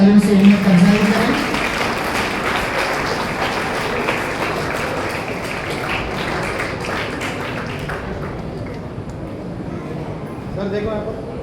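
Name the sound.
audience applause for the college topper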